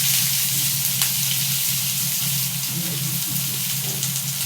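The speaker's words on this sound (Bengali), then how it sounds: "এবার পেঁয়াজটা ছেড়ে দেবো।" Onion frying in hot oil, a loud, close, continuous sizzle with a few sharper crackles and faint stirring.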